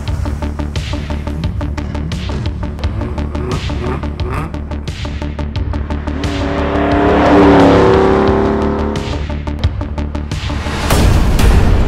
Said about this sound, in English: Here's some driving around Tokyo.